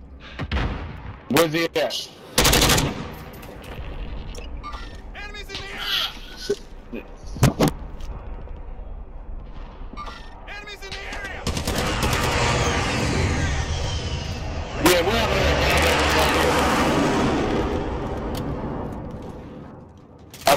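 Call of Duty gunfire in Plunder mode: sharp bursts and single loud shots crack through the early seconds, then sustained heavy firing and explosions rumble across the latter half, with players talking over it.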